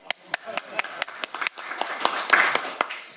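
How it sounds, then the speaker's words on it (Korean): An audience at a National Assembly safety debate claps in sharp, uneven hand claps that thicken into brief applause, close and fairly loud, with some talking mixed in. "박수 한번 때리죠."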